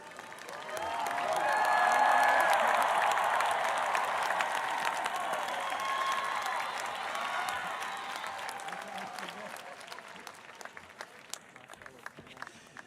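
Audience applause at a Columbia University graduation celebration for the Classes of 2020 and 2021: a large crowd claps steadily, swelling over the first couple of seconds, then slowly thinning out with a few scattered cheers mixed in.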